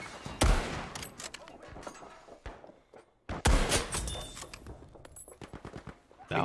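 Video game gunfire rings out in two loud clusters of sharp shots with scattered rapid cracks and thuds between them, fairly close, with speech mixed in.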